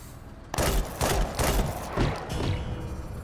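A grenade launcher fires in a video game, a rapid run of heavy booming blasts and thuds beginning abruptly and continuing in close succession for several seconds, loud and close.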